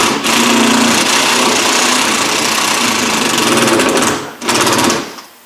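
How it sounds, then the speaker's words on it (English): A worn-out electric drill whines and grinds loudly and continuously, with a rough, rattling tone, briefly dropping out near the end before a final burst and stop. "This drill's on its last leg."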